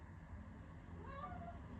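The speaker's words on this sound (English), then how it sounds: "Now that's my cat coming in with her toy in her mouth." A pet cat named Debs, carrying her toy in her mouth, gives a single drawn-out meow partway through, close and fairly quiet over a steady low background rumble.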